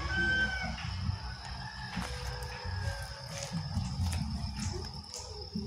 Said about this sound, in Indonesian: Ini burung penjak